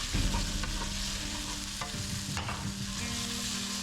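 Pork and Hatch green chili sizzle loudly and continuously in a cast iron pot, a dense close-up crackle with occasional stirring scrapes.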